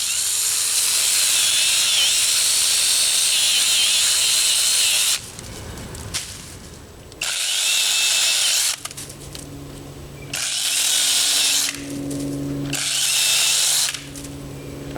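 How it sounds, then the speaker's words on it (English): A small chainsaw cuts down garden plant stalks in loud, close whining bursts. Between the cuts it drops to a lower idle hum, and the cutting resumes several times. "So I'm going to go ahead and chainsaw these down with my little bitty chainsaw."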